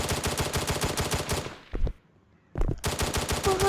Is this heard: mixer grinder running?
no